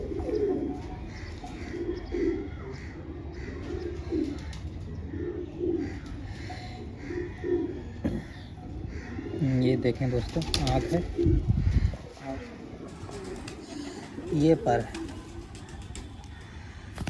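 Cross-bred pigeon from Jaunsure stock cooing softly and intermittently while someone talks steadily over it, with brief rustles and a few louder bursts near the middle.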